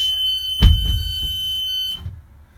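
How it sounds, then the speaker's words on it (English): An emergency door alarm on a school bus sounds as the door is opened from inside, a steady high electronic buzz with a thump as the door moves, then stopping abruptly. "Now to make sure that my bus alarm works"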